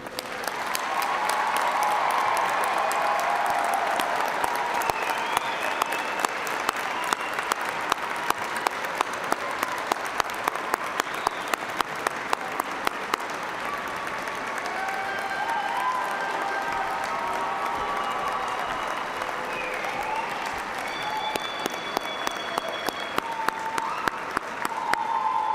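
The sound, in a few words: audience applause for graduating class at commencement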